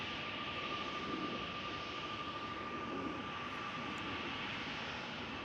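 Jet engines of a Corendon airliner at Amsterdam Schiphol produce a steady, broad roar, with a thin whine held throughout, moderately distant and alone without voices.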